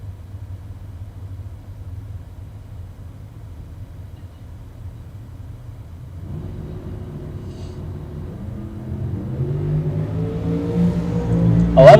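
A full-sized Chevrolet C10 truck and a Corvette Roadster launch side by side in a bracket drag race. A steady, loud engine rumble swells around the midpoint, then rising revs climb toward a louder finish.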